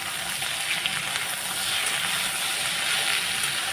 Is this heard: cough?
no